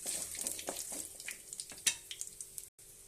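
Curry leaves and a couple of peppercorns hitting hot oil in a pan, close crackling sizzle with sharp spits and pops over a steady frying hiss, briefly cut off near the end.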